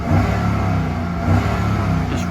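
A 2013 Chevy Silverado LTZ 4x4 engine drones steadily while driving down the road, a loud, continuous low rumble with slight swells in power and no voices.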